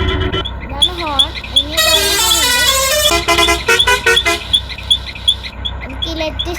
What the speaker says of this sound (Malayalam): ഇതാണ് ഹോൺ.